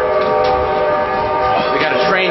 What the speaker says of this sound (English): we got a train coming here.